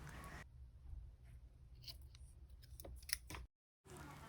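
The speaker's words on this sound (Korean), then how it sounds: "적당한 길이로 끈을 잘라주세요." Scissors snip through a leftover face-mask ear-loop string, a few quiet close cuts over a low hum, ending in a brief silence.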